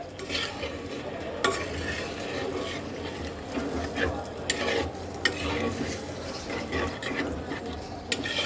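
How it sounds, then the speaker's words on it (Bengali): Spice paste for a katla fish curry with potatoes being stirred and fried in a pan, a close sizzle under repeated scraping and clinking strokes of a spatula. "এবার মশলাটাকে আরও কয়েক মিনিট সুন্দর করে কষাবো ঠিক এইভাবে"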